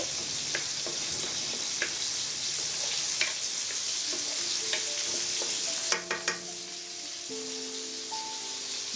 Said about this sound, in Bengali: এখন এই সব কিছু আমি একটু ভুনা করে নিচ্ছি